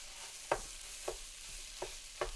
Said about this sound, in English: Can you guys hear the sizzle?